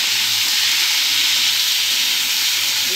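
A masala paste of onion, ginger and garlic fries with potatoes in a pan, giving a loud, continuous close-up hiss and sizzle with no voices.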